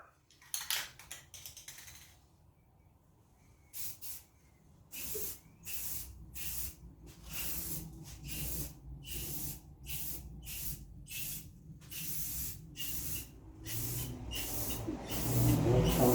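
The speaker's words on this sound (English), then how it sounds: "then you just want to spray light coats on it." An aerosol spray can hisses in short and longer bursts as light coats of spray go onto car headlights, the sprays coming in an irregular rhythm with brief gaps between them, fairly close.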